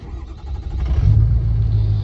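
A warm Ford 6.0L Powerstroke diesel truck engine cranks and fires up on a cold 29-degree day, settling into a loud, steady low rumble with a slight rev.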